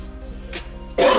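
A person coughs indoors: one soft cough, then a sharp, louder cough at the end, close to the microphone against a faint background hum.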